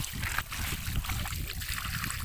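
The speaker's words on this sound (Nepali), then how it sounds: "पानी चाहिँ मस्त एकदम फोर्समा आइरहेको छ" Forceful water pouring from a village spring tap, a continuous near splashing rush with gurgling and small irregular spatters throughout, no voices over it.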